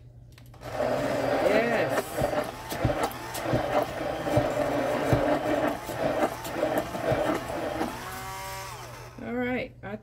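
A battery-powered wand froths eggs inside a Pampered Chef Deluxe Multi Cooker, giving off a steady, buzzing motor whine that shifts slightly in pitch and then stops, with voices talking over it.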